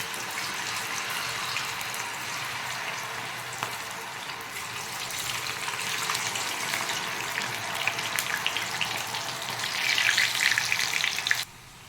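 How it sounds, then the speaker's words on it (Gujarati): French fries deep frying in hot oil over full heat give a loud, steady bubbling hiss that holds for about eleven seconds and then cuts off abruptly, with no voices. "હવે આપણે એને ફૂલ તાપમાં તળી લેવાનું."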